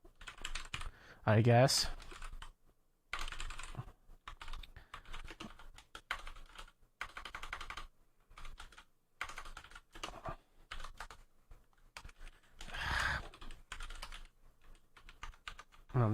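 Typing on a computer keyboard during a live coding session in Visual Studio for Mac 2019, with quiet bursts of key clicks and pauses between them and a few brief spoken words.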